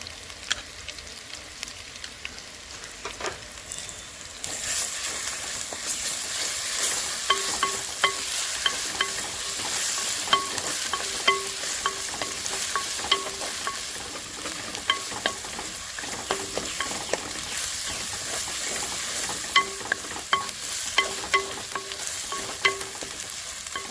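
Ginger garlic paste frying in hot oil for a gongura mutton curry, a continuous crackling sizzle with the scrape and clink of a spoon stirring the pan at a steady rhythm, close and clear without talk.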